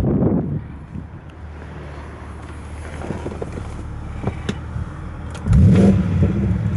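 A running 650 car idles on a country dealership forecourt with wind buffeting the microphone, then its engine rises in a short, loud rev near the end.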